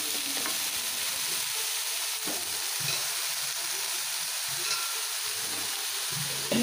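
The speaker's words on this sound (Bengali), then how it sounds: "কড়াতে বেগুনগুলো দেওয়ার পর একটু ভালো করে নাড়াচাড়া করে সমস্ত বেগুনগুলো একটু মিশিয়ে নেবো তেলের সাথে" Eggplant pieces are stirred through hot oil in a wok, giving a continuous sizzle with soft scraping and stirring clatters, close and steady, with no voices.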